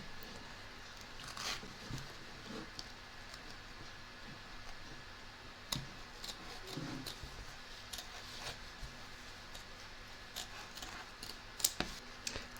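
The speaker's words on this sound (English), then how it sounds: "I'm now going to trim this out, taking care, of course, not to cut the stitching" Scissors trim fabric around applique stitching in short, quiet snips and clicks, scattered irregularly over a faint background hiss, with a few sharper cuts near the end and no voices.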